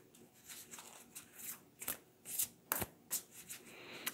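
A deck of oracle cards shuffled by hand up close, a run of quick, crisp riffling flutters and soft slaps coming in uneven bursts, fairly quiet.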